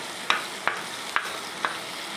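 Ingredients sautéing in a pan ahead of chicken being added, a continuous sizzle broken by four evenly spaced scrapes of a spoon stirring.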